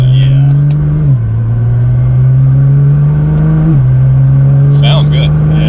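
A 2020 Chevrolet C8 Corvette sports car engine running with its exhaust valves closed, giving a close, steady low drone with a couple of brief pitch dips, while people talk over it.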